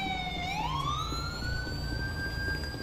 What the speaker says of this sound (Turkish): İtfaiye geldi, itfaiye çabuk, itfaiye.